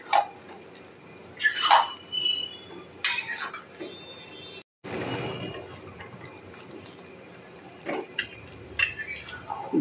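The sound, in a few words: stirring jackfruit curry with garam masala in a pan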